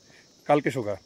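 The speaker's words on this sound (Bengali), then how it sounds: "দেখুন সুন্দর ঝিঝির ডাক" Crickets on a Sikkim trekking trail give a thin, steady, high chirping that runs throughout, faint and partly covered by a brief spoken phrase from a nearby voice.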